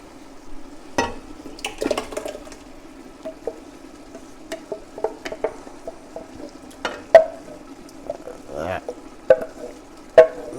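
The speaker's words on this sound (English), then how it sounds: "A little stir" Meat and crushed tomato bolognese sauce is stirred in a pan: a soft continuous sizzle with scattered scraping and clacking strokes of a utensil, close by, while a person talks intermittently.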